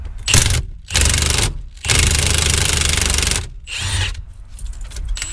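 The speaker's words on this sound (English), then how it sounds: "it's a T50 Torx bit to remove the center bolt" A ratchet wrench turns a T50 Torx bit on the steering wheel center bolt of a Ford F150, giving several loud bursts of rapid clicking separated by short pauses, close up and with no talking.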